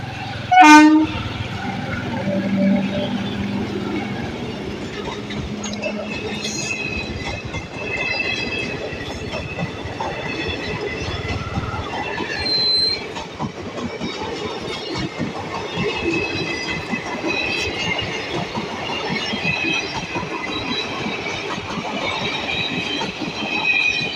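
A train rumbles past a railway crossing close by with a loud horn blast at the start, steady clattering wheels and metallic squeals continuing throughout, with no voices.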